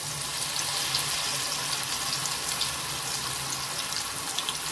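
Spring onion pakoras fry in hot oil, a steady close bubbling sizzle with a bright hiss that holds evenly throughout, no voices.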